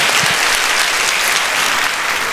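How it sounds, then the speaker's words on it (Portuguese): An audience at a motivational talk breaks into loud, dense applause for a man named Wesley, close and sustained at an even level, with no speech over the clapping. "Um forte aplauso pro Wesley."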